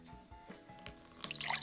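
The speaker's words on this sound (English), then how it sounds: "Ooh, bubbly water." Soda poured for a kids' homemade potion experiment, with dripping, trickling liquid building into a brighter fizzy hiss toward the end; close and fairly quiet.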